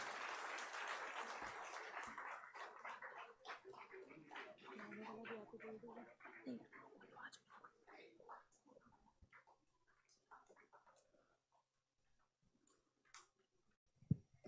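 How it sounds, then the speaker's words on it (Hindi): Audience applause filling an auditorium at a cultural event in Chandigarh, dense clapping that starts loud and gradually thins out into scattered claps before fading to near silence. "आइए डॉक्टर अश्विनी शांडिल्य का जोरदार तालियों से स्वागत करते हैं।"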